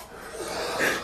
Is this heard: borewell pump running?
no